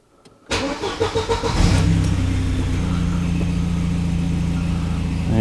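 A Volvo 945 Classic engine cranks briefly and catches, then settles into a steady, loud idle close by, with the starter's rhythmic pulses leading into a continuous running drone.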